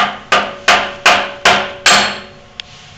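Five sharp metallic bangs of a mallet striking a metal key in a drill press slot at a steady pace, each ringing briefly before the next, followed by a small faint tap; close and loud, no voices.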